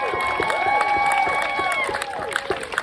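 A crowd at a trans and queer rights march cheers and shouts in a steady, loud roar, with whistles and rising whoops carrying across the full length.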